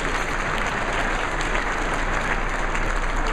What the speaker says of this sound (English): Oh yeah, go ahead, give them a round of applause.